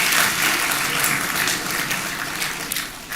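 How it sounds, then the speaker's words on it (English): A graduation ceremony audience gives a loud round of applause, close and dense, tapering slightly over a few seconds. "Please, another round of applause for the DGSS."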